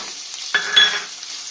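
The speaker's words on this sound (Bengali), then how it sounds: "পেঁয়াজটা একটু লাল লাল করে ভেজে নেব" Sliced onions fry in a pan until reddish, a quiet, steady sizzle broken by two brief scraping stirs close by, with no talking.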